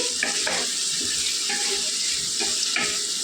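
Cauliflower pieces frying in a pan and stirred now and then, a steady sizzle broken by several soft scrapes of the spoon, close and alone without speech.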